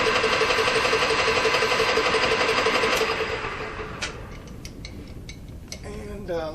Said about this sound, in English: Okay, this is just another roughing cut.